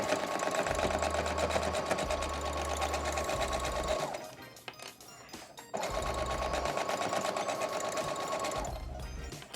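Sewing machine stitching a see-through face mask, a loud, steady close-up mechanical whir with a rapid needle rhythm, pausing briefly in the middle before running again.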